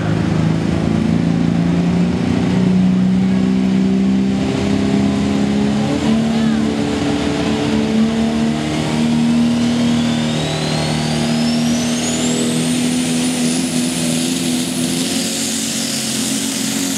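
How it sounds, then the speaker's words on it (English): A Dodge diesel pulling truck roars through a tractor pull pass at an NTPA event in Charlotte, Michigan, its engine droning loud and rising steadily, with a turbo whine climbing late and an announcer talking over it. "Diesel Motorsport Special, Kit Crowder making his pass here, the Dodge"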